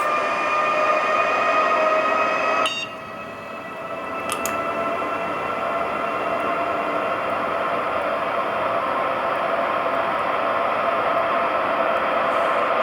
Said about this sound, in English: the train is accelerating, like starting to speed up a little bit